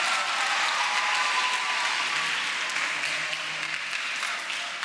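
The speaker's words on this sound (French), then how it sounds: "On applaudit encore une fois," A church congregation at Sunday morning Mass on the first Sunday of Advent gives a sustained round of applause, an even wash of many hands clapping at moderate distance without talk.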